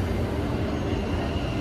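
Blue commuter train at a Taipei airport MRT station, a steady broadband rumble of wheels and rolling carriages held close and loud through the whole stretch, with no talk over it.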